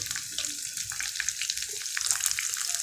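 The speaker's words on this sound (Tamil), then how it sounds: "இதுவும் கொஞ்சம் நல்லா அதில் பொரிஞ்சு வரட்டும்" Crushed garlic frying in hot oil for rasam, a steady bright sizzle and crackle running throughout at close range, with small stirring sounds now and then and no talking.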